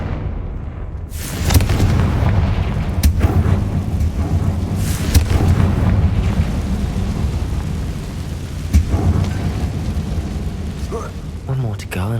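Confringo fire spell explosions in Hogwarts Legacy: several heavy booming blasts with crackling, rumbling tails, loud and close, over a continuous roaring game soundscape, with a voice briefly casting.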